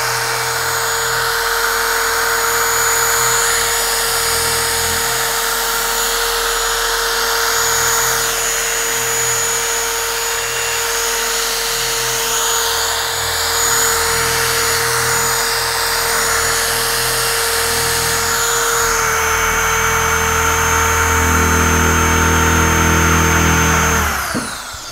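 A UDOS 51E random orbital polisher set to a 21 mm throw runs steadily at close range, a loud continuous whirring drone with a steady tone, heavy pressure on the pad adding some roughness, and no voices over it.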